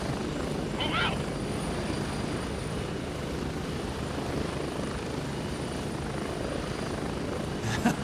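Helicopter in the video game Gray Zone Warfare, with a steady rotor and engine drone throughout and a player talking over it.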